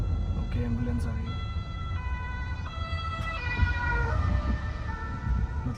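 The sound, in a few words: ambulance siren approaching on German autobahn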